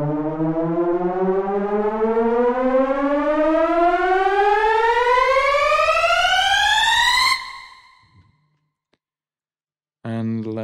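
A synthesized trailer riser built in Vital and pitched an octave higher: a loud harmonic tone sweeping steadily upward for about seven seconds, cutting off abruptly with a short decaying tail, then silence before a new sustained tone starts.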